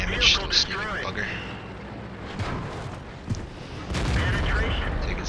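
Tank cannon fire from a KV-1 heavy tank in World of Tanks gameplay, with booming shots and rumbling battle noise under continuous talk.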